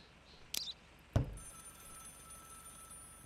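A telephone rings inside the police checkpoint video game Contraband Police: two short bell-like rings about half a second apart, followed by a faint, lingering tonal hum over quiet background.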